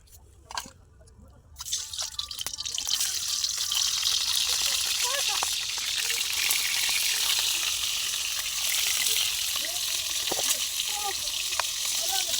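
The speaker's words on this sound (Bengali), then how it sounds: "অল্প তেলে ডিমগুলো হালকা করে ভেজে নেব।" Eggs sizzle and crackle steadily in a little hot oil, with occasional pops and spits, loud and close.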